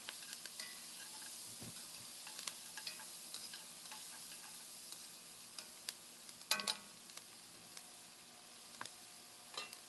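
Vegetables sweat in a pot for smoked chicken tortilla soup, giving a faint, steady low sizzle with scattered light clicks and a louder stirring clatter partway through.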